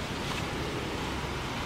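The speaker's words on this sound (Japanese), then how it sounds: "少し大きめの川が流れています" A river about ten metres wide flows beside Prefectural Road 56 at Bessho in Nakagawa City, giving a steady, even rush of water that holds constant throughout, with no voices.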